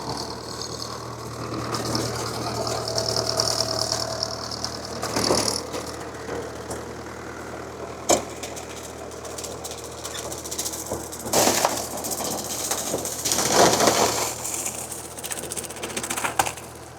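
A Farmtrac 6055 WorldMaxx 4WD tractor of 55 HP runs its diesel engine with a banana shredder attached, a steady knocking idle under intermittent rattles and clanks that rise into louder bursts, with no speech.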